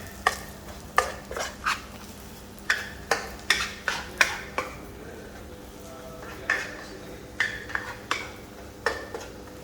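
Dried shrimp paste is stir-fried in oil in a pan, with a steady run of sharp spatula scrapes and clanks against the metal over a faint sizzle, close and clear.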